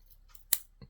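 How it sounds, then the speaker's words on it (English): The small scissors of a Victorinox Alox pocket knife give one crisp, close snip, with a softer click just after it, in a quiet room. "and the scissors."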